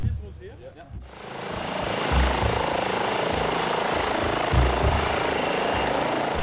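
A search helicopter roars loudly and steadily overhead, its rotor chop pulsing through a dense broadband wash after a brief moment of voices at the start.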